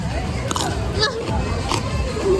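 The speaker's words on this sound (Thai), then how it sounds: "แต่กรอบจริงนะอร่อยด้วย อืมเนี่ยได้ยินเสียงไหม" Crisp crunches of someone biting into crunchy mango dusted with chili powder at a busy Taiwanese night market, close and sharp over steady crowd babble.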